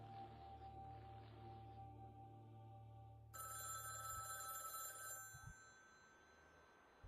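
A desk telephone rings in an adventure game, a bright electronic trill that starts about halfway through and holds for roughly two seconds over a steady low hum.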